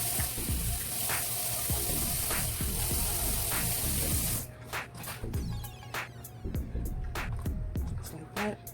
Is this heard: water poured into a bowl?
yes